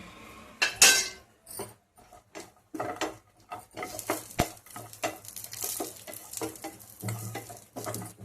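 Grated coconut roasts in a little oil in a pan for a spicy vada rassa masala, with a quiet sizzle under repeated scraping and stirring strokes of a spatula against the metal, heard up close and without speech.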